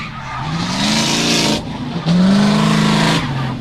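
Nissan GT Skyline drift car on custom D-Spec racing wheels at a drift park, engine roaring near and loud with tyres squealing through a slide, dipping briefly before surging again.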